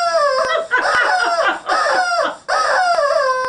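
A human voice imitates a hen, giving a quick run of four or five squawky, rising-and-falling clucks close to the mic.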